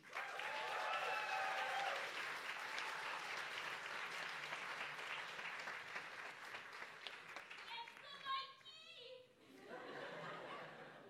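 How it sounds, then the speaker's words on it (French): A crowd at a Cégep La Pocatière student talent show applauds Michael Joly, with scattered chuckles mixed in. The loud clapping swells early, then thins and fades, and a voice starts speaking near the end. "Applaudissez Michael Joly"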